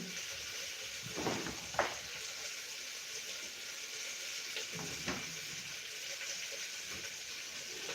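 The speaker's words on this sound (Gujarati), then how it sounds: "હવે આપણે ડુંગળી એકદમ સરસ ક્રિસ્પી એવી તોતળાઈ ગઈ છે" Onions frying until crispy in a pan for a vegetable biryani give a steady, close hiss of sizzling oil, broken by a couple of louder stirring scrapes.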